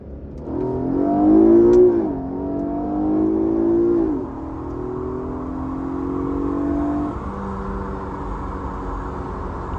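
Infiniti Q50 fitted with racing air intakes accelerating from inside the cabin, a rising engine drone with a whine that climbs and drops through gear changes before settling into a steady cruising hum.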